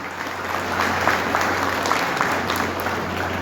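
Audience at a BJP workshop hall in Korba applauding a dignitary's welcome, steady dense clapping over a low mains hum, moderately loud and continuous.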